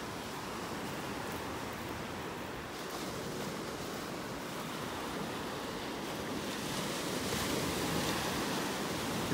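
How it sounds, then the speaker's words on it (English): Ocean waves break and wash steadily onto the beach at Delnor-Wiggins in North Naples, Florida, forming a continuous broad surf roar that swells slightly toward the end, with light wind and no talking. "Maybe with all this wave action,"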